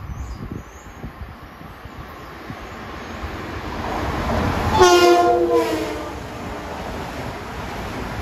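A Long Island Rail Road train passes Merillon Avenue station, its rumble building over several seconds and peaking as a loud horn blast sounds nearby, then the wheels and cars keep rolling past.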